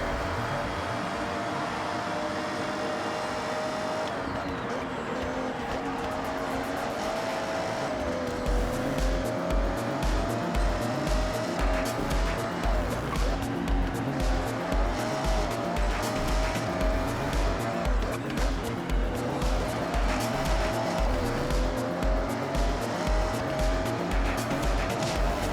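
A car with stiff damping races in a driving video game, its engine droning and rising in pitch with a steady pulsing rhythm in the second half, with occasional tire squeal, loud and close.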